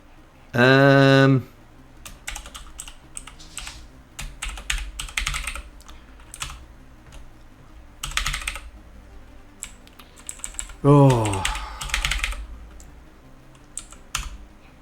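Rapid clicking keystrokes on a computer keyboard while writing code, close and irregular in bursts, with a couple of short spoken exclamations breaking in.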